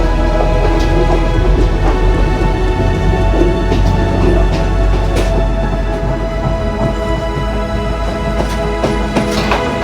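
Steady heavy rain during a coastal train journey in Sri Lanka, a dense continuous wash mixed with low train rumble and occasional sharper spatters, loud and unbroken throughout.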